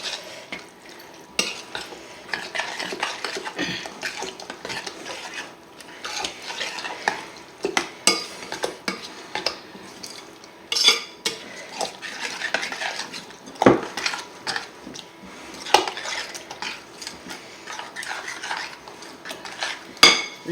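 Spoon stirring a crème fraîche tuna filling in a pan, giving continuous uneven scraping and clinking of utensil against metal over a soft bubbling sizzle, steady for the whole stretch with no talking.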